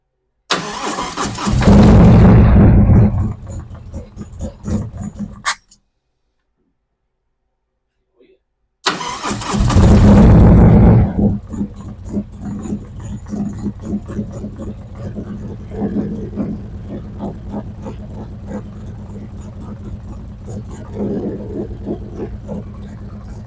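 A 2023 Harley-Davidson Street Glide ST with Stage 2 engine build starts with a loud cranking roar, cuts out briefly, then restarts and settles into a lumpy, steady idle close by.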